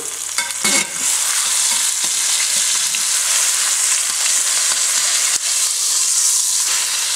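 A beef pot roast searing in a hot pan after being flipped, a loud continuous sizzle with a few clunks at the start, close and without talking.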